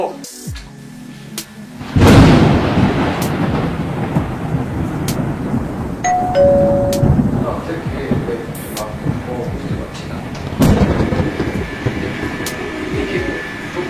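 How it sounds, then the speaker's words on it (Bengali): Heavy rain pours steadily with deep rumbling thunder rolling in, loud and continuous, with a brief tonal sound partway through. "বাইরে ভীষণ বৃষ্টি পড়ছে।"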